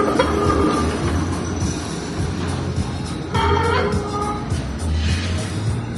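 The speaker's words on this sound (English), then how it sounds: "That's the San Francisco streetcars" A San Francisco streetcar rolls along its rails with a loud, close, continuous rumble, with metallic rail clatter and faint squeals and no talking.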